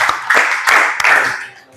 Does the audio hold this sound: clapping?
yes